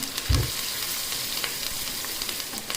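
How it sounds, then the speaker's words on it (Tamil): Crushed garlic, dried red chillies and curry leaves sizzle in hot oil, a steady bright crackle with a soft thump of ingredients landing near the start, close and uninterrupted. "தட்டி வச்ச ஒரு கட்டி பூண்டும் கொஞ்சமாக வரமிளகாய், கருவேப்பிலை, இது 3யுமே எண்ணெயில் சேர்த்துக்குவோம்"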